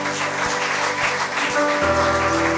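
A congregation applauding during a church service, broad clapping noise running steadily through the clip over sustained organ or keyboard tones.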